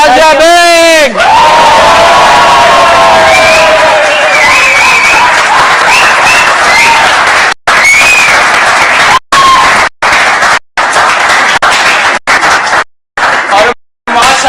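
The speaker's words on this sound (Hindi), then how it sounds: "सबके भरपूर तालियों में नाज़िया बेग" Loud audience applause and cheering welcoming guest Nazia Baig onto a T20 World Cup cricket talk show, dense clapping with whoops and shouts over music, later cut by several abrupt silent gaps.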